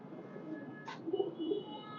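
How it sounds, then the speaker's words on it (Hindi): A pigeon gives a soft, low coo, faint and close, against quiet background hiss. "ये जेठ में उड़े हुए हमारे कबूतर हैं"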